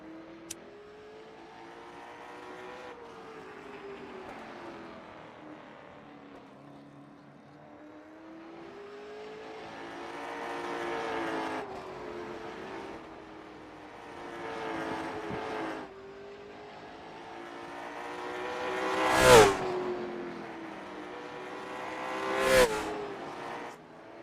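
A Late Model Stock car engine drones in 4th gear around Oxford Plains in iRacing, its pitch rising and falling through the corners, with two sharp bursts of louder roar near the end and no voices.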